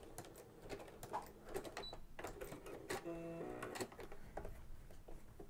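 A sewing machine fitted with a walking foot runs through a short stitching burst, a quiet mechanical whir and clatter amid faint handling noises, with no talking.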